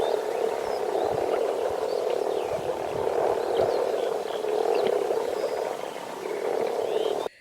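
Moor frogs, the May swamp frogs, in the Biebrza marshes, croaking in a dense, continuous chorus that runs through the whole stretch, many overlapping calls at steady loudness with no voices.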